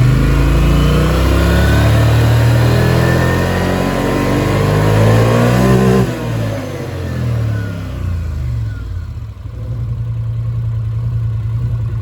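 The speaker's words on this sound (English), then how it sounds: "if you notice the RPM when I raise it" A Polaris Sportsman 850 ATV with an HMF Optimizer exhaust revs up from idle, the pitch climbing and holding near the middle, then drops back to a loping idle. The engine is loud and close, with no talking.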